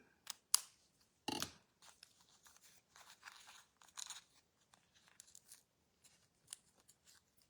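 Scissors snip the edges of card stock in a handmade card class, a string of short, crisp cuts and paper rustles, close and quiet, with gaps between.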